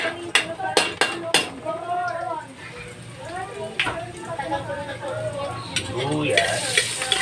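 Garlic frying in a hot wok, sizzling steadily up close after a few sharp clanks of a utensil at the start, with someone talking over the sizzle throughout.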